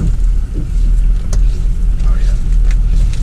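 An outboard boat engine idles in reverse on shallow water while a cast net is thrown for bunker, a steady low rumble with wind buffeting the microphone throughout.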